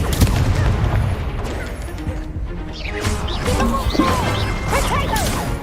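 A Confringo blasting curse explodes amid busy spell combat in Hogwarts Legacy, giving a dense crashing burst layered with whooshes, chirping magical effects and constant battle noise at a steady, loud level.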